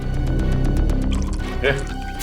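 Water splashes and drips onto the face of an unconscious man with a head injury. The wet splatter is heard under dramatic music and speech in a crime-drama scene.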